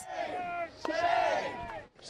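A protest crowd chants at Place de la République in Paris, loud rhythmic shouted voices rising and falling together in short repeated bursts.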